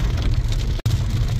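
Heavy rain pours steadily on a New Brezza driving through a valley road at night, a dense wash of noise over a low road rumble that cuts out for a split second, with no talk.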